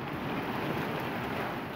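Strong storm winds blowing in a steady, dense roar, a brief continuous gust of rushing air with a watery, surf-like wash and no voices.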